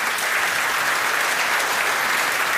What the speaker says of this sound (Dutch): Applaus voor jullie.